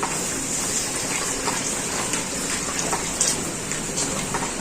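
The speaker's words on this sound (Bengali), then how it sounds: "এবার কড়ার মধ্যে দিয়ে দিচ্ছি জল" Water is poured into a wok, giving a steady, close gushing splash that runs continuously with small bursts of spatter; no voices.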